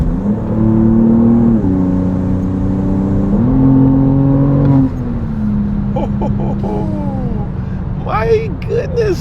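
A 2026 BMW M2 with a mid-pipe exhaust revs loudly up close, its engine note climbing in stepped surges before settling into a lower drone, with faint turbo whistles and chirps near the end.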